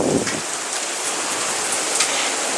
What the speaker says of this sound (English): It looks like puddles, but that is freaking hail.